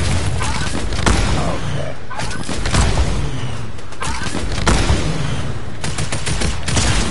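Dense gunfire in a Fortnite match, with continuous rapid bursts and booms filling the whole stretch, loud and busy, while people talk over it at times.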